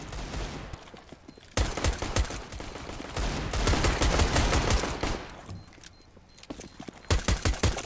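Bursts of gunfire from a CS:GO competitive match, with short volleys and rapid shots broken by quieter gaps, loud and close throughout.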